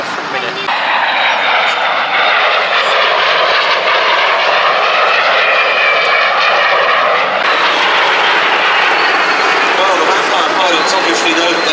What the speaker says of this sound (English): they've just been engaged by the MiG, and here it is coming in from our right